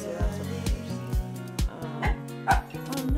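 A dog barks repeatedly in short, loud bursts, some yips and whimpers mixed in, close to the microphone and spaced unevenly over a few seconds.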